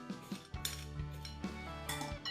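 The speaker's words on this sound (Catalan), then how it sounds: "I ara ja passarem a barrejar tots els ingredients que hem picat" A spoon stirring chopped chives, onion, tomato and ham together in a bowl, giving close, repeated clinks and scrapes of cutlery against the dish in a steady mixing rhythm, with no talking.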